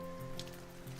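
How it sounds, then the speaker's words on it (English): Steady rain patters continuously for about a second beneath a soft, sustained tonal background, with no one talking. "It's been raining since last night."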